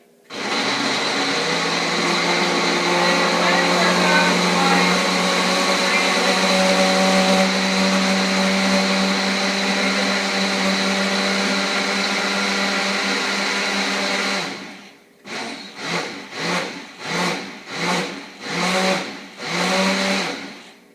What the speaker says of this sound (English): Now we're off with the blender. And we turn it on. And here we go. It's going to be loud.